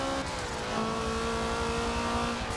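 A 2000-horsepower car engine in a video game revs high and steady, a continuous whining drone with rising tone, loud and close, with no speech.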